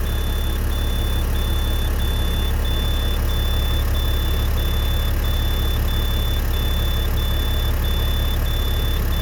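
A 2005 International school bus diesel engine idles steadily with the hood up, a loud, constant low rumble with a faint high whine running throughout, no talking.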